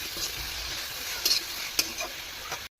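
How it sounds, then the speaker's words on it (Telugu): Potatoes frying with fenugreek leaves in a pan, with a soft, steady sizzle and a few light scraping stirs, quiet and without talk, ending abruptly. "ఫ్రై అవుతున్న దాంట్లో మనం ముందుగా వాష్ చేసుకొని పెట్టుకున్న మెంతాకును వేసుకోవాలి అంతా వేసుకొని ఇలా ఫ్రై చేయాలి"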